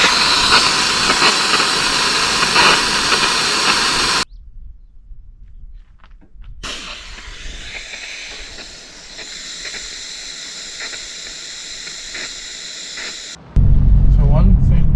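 Indiflate tire deflators letting air out of an off-road vehicle's tires, two at a time, on a Northern Cape desert pan. A loud steady hiss starts and stops abruptly, with a quieter hissing stretch in the middle and wind or handling noise at the end.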